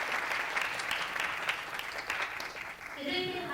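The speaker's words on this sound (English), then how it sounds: "So please give her a big round of applause once again." Audience applause at a children's peace summit, a steady dense wash of clapping from a large crowd that carries through the whole stretch, with a voice starting to speak near the end.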